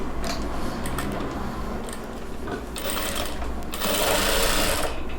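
Sewing machine stitching a chudidhar pant hem, close and steady with rapid ticking needle strokes and mechanical clatter, pausing briefly before picking up speed again.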